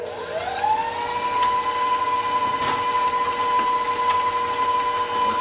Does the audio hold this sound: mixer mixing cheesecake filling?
yes